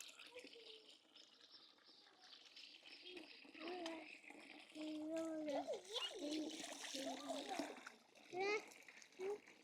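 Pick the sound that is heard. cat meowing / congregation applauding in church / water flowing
water flowing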